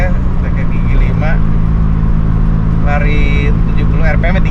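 A Daihatsu Charade Turbo cruising at 70 in fourth gear, its loud, steady engine drone with a strong low hum filling the cabin while someone talks over it.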